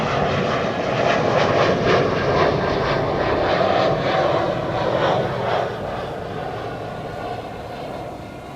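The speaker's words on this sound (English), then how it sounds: "an E2 Embraer to London just now" An Embraer E2 jet departs Schiphol with a loud, rushing engine roar close by, strong and steady for several seconds before easing off slightly toward the end, with no one talking.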